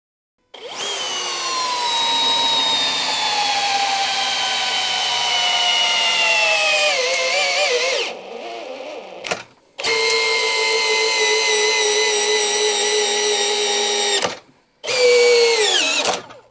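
A Hilti drill strains to drive a 10-inch lag screw into a 4x6 timber, its loud whine slowly dropping in pitch under load, then stopping briefly twice before short bursts resume, close and with no talk.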